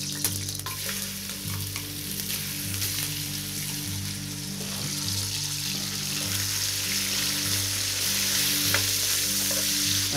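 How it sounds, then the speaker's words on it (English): Schmaltz sizzles and crackles steadily in a hot Dutch oven as turkey sautés, a dense, continuous frying hiss close up throughout with a low hum underneath and no talking. "Now I'm going to put the schmaltz into the Dutchie."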